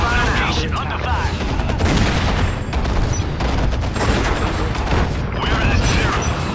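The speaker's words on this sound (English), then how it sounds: "Opening fire now." Gunfire rattles in the Act of War real-time strategy game, with bursts of automatic fire and booms over a busy battle din, while in-game unit voices speak over the shooting.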